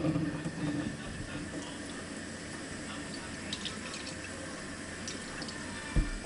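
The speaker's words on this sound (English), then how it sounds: "Gonna be washing these sweet potatoes" Sweet potatoes being rinsed and scrubbed under a running kitchen tap, a steady moderate water hiss with faint splashing and a small knock near the end.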